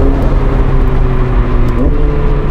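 A McLaren 765LT Spider fitted with a Novitec exhaust drones loudly and steadily on the road, its engine a deep, close rumble with a brief pitch shift near the end, like a gear change.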